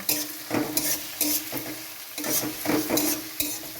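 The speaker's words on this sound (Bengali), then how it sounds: "কাঁচা লঙ্কা দিয়ে দিচ্ছি এবার এটাকে ভালোভাবে ভাজব" Green chillies stir-fried in hot oil in a pan for a fish curry, giving a steady sizzle broken by repeated scraping strokes of a spatula against the pan, close and fairly loud, with no talking.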